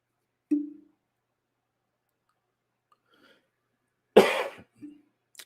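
A short dry cough close to the mic, followed a few seconds later by a harsher cough and a small throat-clearing sound, with silence around.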